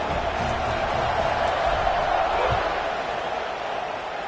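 Football stadium crowd before kickoff, a broad steady roar of many voices that holds level and close throughout, with scattered shouts rising briefly from the mass.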